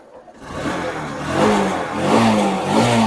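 Motorcycle engine running steadily after its idle was set around 1100 rpm, a continuous close hum with a few slight rises in pitch, no talking.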